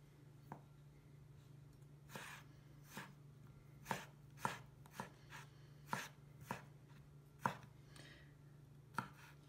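A knife slices through asparagus at an angle on a cutting board, producing about a dozen crisp, separate chops at an irregular pace, close and fairly quiet over a low steady hum.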